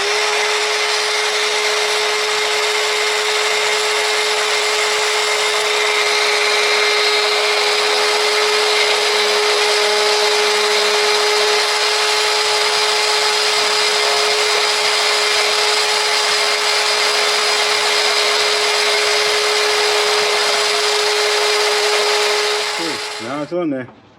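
Steady, loud grinder whine runs almost unbroken while grinding the power steering pump pulley on a C10 pickup truck, holding one sustained tone for about twenty seconds before cutting off abruptly near the end.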